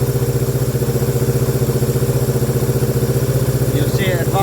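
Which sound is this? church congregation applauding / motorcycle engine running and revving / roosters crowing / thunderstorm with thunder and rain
motorcycle engine running and revving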